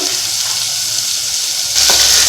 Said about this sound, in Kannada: ಈರುಳ್ಳಿನ ಹಾಕ್ತದನಿ ಇದನ್ನ ಇವಾಗ ನೀಟಾಗಿ ಸ್ವಲ್ಪ ಫ್ರೈ ಮಾಡ್ಕೋಬೇಕು